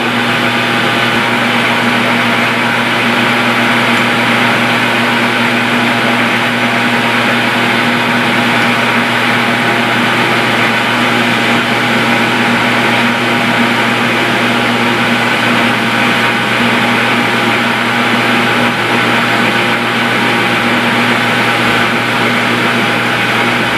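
A loud, continuous metal lathe whine facing a steel bar, with a steady motor hum and grinding cutting noise, unchanging throughout and with no talking.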